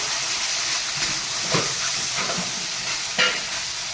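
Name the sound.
pea paste and ginger paste frying in pan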